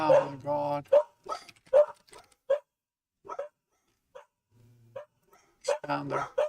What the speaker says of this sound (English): I think the dog saw something.